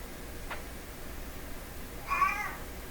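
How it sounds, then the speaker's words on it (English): A cat meows to be let into a room, first with a short faint cry and then with a clearer, drawn-out meow, both quiet against a low background hiss. "Listen to that cat trying to get in here."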